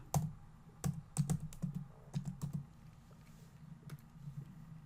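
Typing on a computer keyboard, sharp close key taps in uneven bursts with short pauses, alone in a quiet room.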